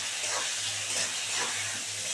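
Desi bele fish frying in a pan with salt and turmeric, giving a steady, close hiss and sizzle that holds evenly throughout with no voices.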